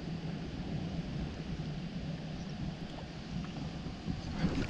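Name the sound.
strong wind while bass fishing from a boat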